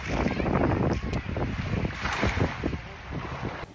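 Waves washing and wind buffeting the microphone on a Maldives beach, a steady loud rush with irregular surges of surf.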